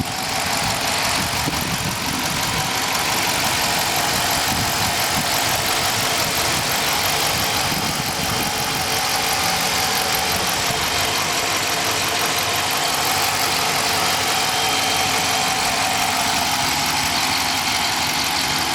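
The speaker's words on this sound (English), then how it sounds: "This is the engine. Let me be quiet for a quick second so you can hear it." A 2020 Dodge Charger Police with a 5.7-liter HEMI V8 and AWD idles steadily, a loud, even engine rumble heard close up with no talking over it.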